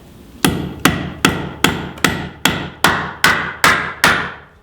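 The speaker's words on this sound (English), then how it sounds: "Then you take your hammer or sledge" Hammer driving a bolt into a hole in a wooden tiny-house compost toilet frame: ten sharp, evenly spaced metallic blows, each ringing briefly before the next, close and loud.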